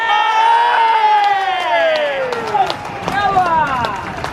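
At a Slough Town FC non-league football match, a crowd roars and cheers loudly and continuously after a goal, with whoops and shouts rising and falling.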